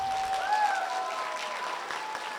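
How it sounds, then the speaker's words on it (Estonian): An audience at a school playback show gives a burst of applause for performers, a dense, steady patter of clapping with a few faint whistles, fairly loud and without voices on top. "teeme kõigepealt ühe suure aplausi neile, ma arvan."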